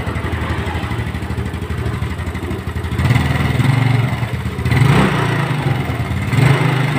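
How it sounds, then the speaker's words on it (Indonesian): A motorcycle engine being tested during an ignition-system check runs with a steady close idle, then rises in several short revs. "Ini motor sudah hidup."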